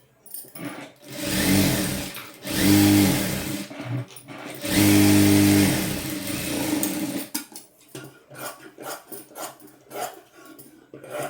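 A sewing machine stitches a lehenga blouse, joining the lining to the main cloth, in two steady whirring runs of a couple of seconds each, close by, followed by lighter clicks and fabric handling.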